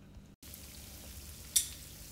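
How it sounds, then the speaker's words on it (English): Mac and cheese bites fry in oil on a stove, giving a soft continuous sizzle with light crackles, a brief dropout near the start and a sharper pop partway through. "you can tell that the stove is yet frying up again"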